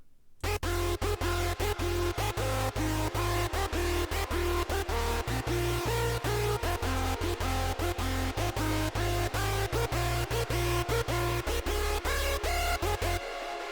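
A bright hardstyle synth lead melody plays over sustained chords and a steady driving beat in a mid-intro, loud and continuous throughout with shifting bass notes.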